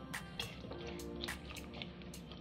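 Water pours steadily into a pressure cooker holding about a quarter cup of toor dal, a continuous splashing trickle with small drips, close and fairly quiet.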